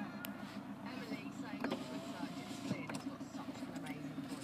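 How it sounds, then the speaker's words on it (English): The front electric windows of a Volkswagen Golf S SDI diesel manual whir as their motors run. The hum is soft and sits beneath a voice. "Front electric windows. Both work. Here you do, as you can hear, works."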